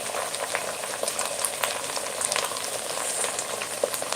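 Steady crackling sizzle of a spice tempering frying in hot oil for Khandeshi roasted-eggplant bharit, close and continuous, with small pops and a stirring scrape now and then.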